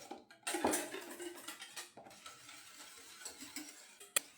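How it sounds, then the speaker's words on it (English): Egg mixture is stirred into cream and milk in a pot, soft irregular scraping and swishing close by with occasional clinks of utensil on metal, including a sharp tap near the end. "Now we'll add the egg mixture into the remainder of our cream and milk. Mix it."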